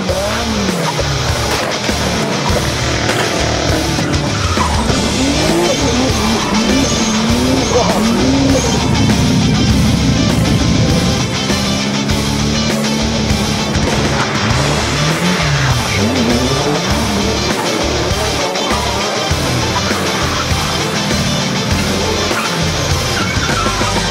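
Cars drifting on a street at night in Osaka, loud engines revving hard and wavering in pitch with sustained tire squeal and skidding noise throughout, dense and close, no voices.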